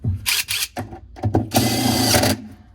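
A power drill whirs in several short bursts, then runs in one sustained, loud grinding spin driving a screw into a top-load washing machine during bearing replacement, close up.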